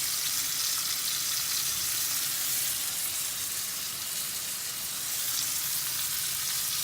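Bison steak searing in a pan beside a ribeye gives a dense, steady sizzle and crackle of hot fat, loud and close, continuing without pause.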